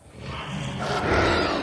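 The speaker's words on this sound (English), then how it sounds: "The Spinosaurus lets out a mating call," A Spinosaurus mating call from the video game Jurassic World Evolution 2: one deep, rumbling roar that swells louder toward its end, sustained and close, with no other sounds.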